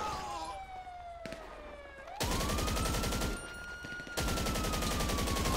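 Rapid automatic gunfire fills a GTA 5 Online shootout, with loud sustained bursts and a police siren sweeping up and down behind them.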